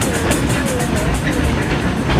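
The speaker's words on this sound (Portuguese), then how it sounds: "Qual é o som do bonde?" A tram rolls along its rails, giving a loud, continuous rumble with a regular clickety-clack rhythm. The sound stays steady and close the whole time.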